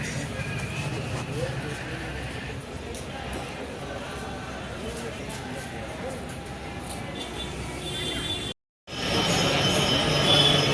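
Station ambience at Gaya Junction railway station, with a train's rumble and wheel noise running steadily under a busy crowd and voices, broken by a brief silent gap near the end.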